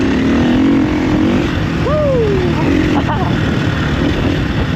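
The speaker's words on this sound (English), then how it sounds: "Every gear, this bike just loves to bloody spin the back wheel." KTM EXC-F 350 dirt bike engine on a green lane, running hard with a steady loud drone and wind rush and a rising whine as the rear wheel spins, close to the rider.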